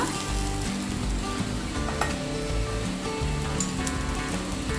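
Chana dal frying in a pan, heard as a constant crackling sizzle with soft, rhythmic stirring scrapes underneath and occasional brief clicks, close and with no voices.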